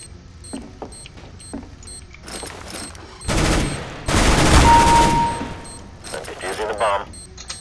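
Gunfire in the video game CS:GO during a Demolition match on the Safehouse map: scattered single shots give way to loud sustained bursts of automatic fire in the middle, with a player talking over parts of it.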